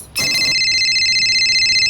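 A telephone rings with a steady, bright electronic trill that starts abruptly after a brief pause and continues unbroken, loud and close, with no voices over it.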